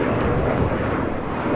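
A Gulfstream 650 ER business jet on the runway at LAX gives a steady, loud, broadband engine roar that fills the short stretch without a break.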